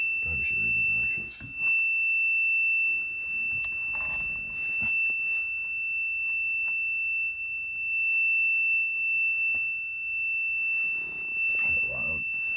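Razor Hovertrax 1.5 25V hoverboard sounding a piercing high alarm tone that holds steadily through calibration mode, with indistinct talk and handling noises underneath.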